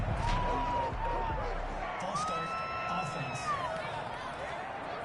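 Stadium crowd roar from Madden 21 during a Cowboys at Panthers game, a steady loud wash of cheering and whooping throughout, with a commentator's voice over it.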